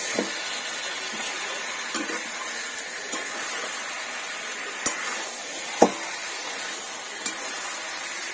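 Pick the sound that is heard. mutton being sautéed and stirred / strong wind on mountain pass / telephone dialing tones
mutton being sautéed and stirred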